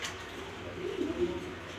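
Pigeons coo softly in a brief, low, rolling call close by, with a faint background hiss and no talk.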